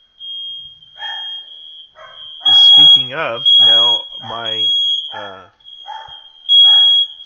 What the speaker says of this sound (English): smoke alarm goes off here in the house.